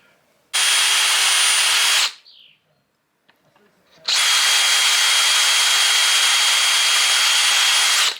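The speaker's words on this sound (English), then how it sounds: "We're drilling pilot holes for the screws to go in." A power drill bores pilot holes into wood for screws while building out a Sprinter campervan: two loud, steady whirring bursts, the first about a second and a half long, then a quiet pause with faint handling, then a longer run.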